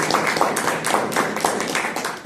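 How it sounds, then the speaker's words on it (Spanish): Audience applause at a Spanish-language environmental panel talk, with steady overlapping clapping from a room of listeners. It holds at moderate loudness, with no voices over it. "Vamos a dar un aplauso."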